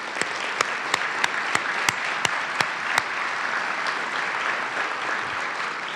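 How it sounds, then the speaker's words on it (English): An audience at a regional state-of-the-region event applauds a weatherization team, a steady wash of clapping from a large room with a few loud, evenly spaced claps from someone close by. "I want us to give them a round of applause for that"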